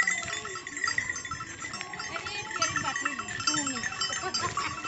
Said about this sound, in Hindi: देखो बकरी आ गई, बकरी दिखाओ।